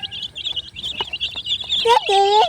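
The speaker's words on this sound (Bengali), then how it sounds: "দেখেন কি সুন্দর পাহাড়ি মুরগি" Crested hill chickens give soft clucks and chirpy calls close by, ending in a louder drawn-out squawk, with a person speaking faintly alongside.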